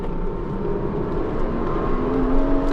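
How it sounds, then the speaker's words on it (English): A Porsche naturally aspirated flat-six engine drones and climbs in pitch, revving steadily from inside the car with a smooth, rising tone near the end. "Always gotta love a Porsche naturally aspirated flat 6."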